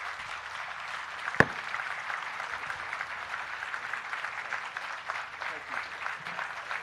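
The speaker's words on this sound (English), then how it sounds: "So please give him a very special round of applause." Steady, sustained applause from a large audience at a literature festival session, even and continuous with one sharp knock near the start, and speech faintly underneath.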